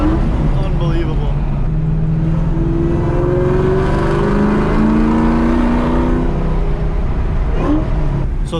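A Terminator Cobra with a factory forged motor, 3-liter Whipple Gen 5 supercharger and cooling mods drives past with a loud, sustained engine roar rising in pitch as it accelerates, with voices underneath.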